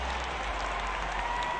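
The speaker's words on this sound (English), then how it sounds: "the fans give Ruth a big round of applause" Steady crowd applause and cheering from a simulated baseball game in OOTP20, honoring Babe Ruth's defensive catch in right field; a continuous, dense wash of clapping that holds evenly for the whole moment with no talk.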